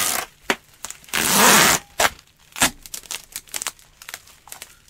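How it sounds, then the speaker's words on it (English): Packing tape is pulled and run around a wrapped box holding a large fragile antique, with one long loud screeching unroll and several short crinkling, tearing and pressing sounds nearby. "And then we can literally come back in here and just run some tape."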